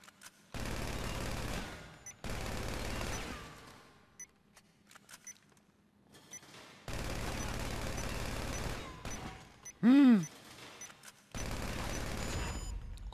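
A big gun firing in GTA V, heard as four long sustained bursts of rapid gunfire separated by quiet gaps, with a short rising electronic chirp between the last two bursts.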